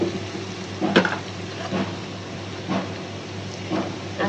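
Lentils and spices fry in a pan for chicken khichuri, giving a steady close sizzle with a few sharper stirring scrapes and clinks spaced through it, no voices.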